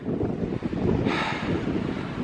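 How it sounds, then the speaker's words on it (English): Steady wind on a headland buffets the microphone with a loud, rumbling roar and a brief hissing gust partway through. "it's still windy up here"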